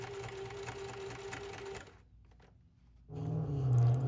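Sewing machine stitching a fabric pocket cut from an old bed sheet, a steady fast mechanical whirr that breaks off briefly for about a second, then resumes louder and close, with no talking.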